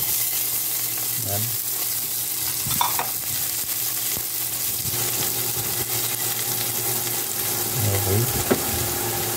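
Chopped garlic sizzles steadily in a hot pan for salmon belly sinigang, with a spoon stirring and scraping at intervals and a brief voice speaking over the frying.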